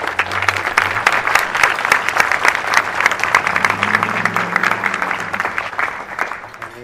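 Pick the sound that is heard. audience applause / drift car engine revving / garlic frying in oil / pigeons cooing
audience applause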